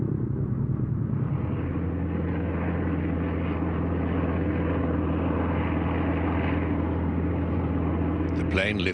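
Messerschmitt Bf 110 aircraft taking off for flight, a steady loud propeller-engine drone with a strong low hum held throughout, ending in a brief sharp noise.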